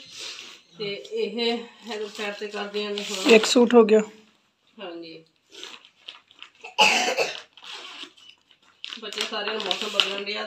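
A few short, harsh coughs break up ongoing conversation, close by and fairly loud, with people talking before and after.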